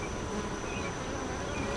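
Honeybees buzz around an open hive during a summer nectar dearth, a dense, close, continuous drone of many wings with no voices.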